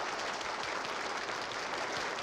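Studio audience applause, a dense, even wash of clapping held steady throughout, fairly quiet and with no voices over it.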